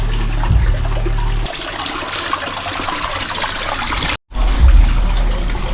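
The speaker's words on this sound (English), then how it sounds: "Filling up the pond." Water pours and splashes continuously and loudly into a pond as it fills, with a brief cut near the end before the rushing flow resumes.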